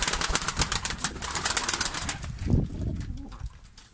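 Domestic pigeons, including Diyarbekir White and Kırıkkale birds, coo and rustle in a loft, a steady close murmur with wing flutters and a few louder bursts, no voices.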